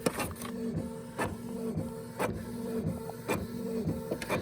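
A printer whirs and clunks in a repeating cycle, with rhythmic mechanical thumps roughly every second as it tries to feed a napkin instead of paper.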